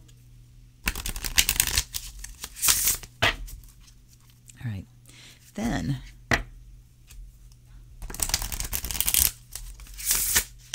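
A deck of Innovative Whack Pack cards from US Games is shuffled in several quick riffling bursts separated by pauses, with a person speaking briefly between them.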